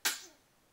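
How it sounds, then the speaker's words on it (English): A child gives a single sharp sneeze nearby, a sudden loud burst that trails off quickly into quiet. "my daughter's sneezing."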